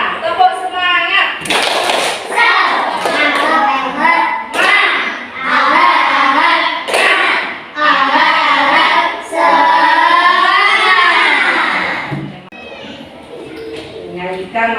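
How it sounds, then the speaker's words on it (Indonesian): A class of students doing a rhythmic spirit clap (tepuk semangat), with sharp hand claps punctuating loud group chanting in a steady pattern for about fifteen seconds. "Tepuk semangat."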